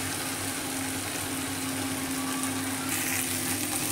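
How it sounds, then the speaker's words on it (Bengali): Sliced okra fries on a low gas flame with a soft, continuous sizzle over a steady low mechanical hum. "এই ভেন্ডিটাকে আমি এবার ভালো করে হালকা গ্যাসে ভেজে নিব"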